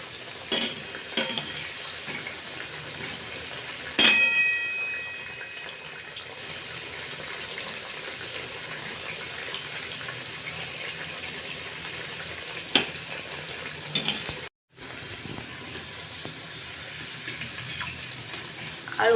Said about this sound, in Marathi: आळू वडी आता आपण दुसऱ्या साईडनं तळून घेऊया